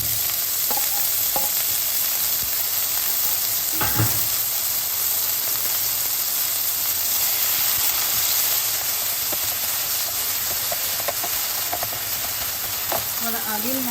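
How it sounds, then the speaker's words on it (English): Chopped onion and garlic hiss and sizzle steadily in a hot pan with meatballs for a mushroom sauce, a dense frying crackle throughout with a few soft utensil knocks and scrapes. "So now I'm going to add some onion and garlic."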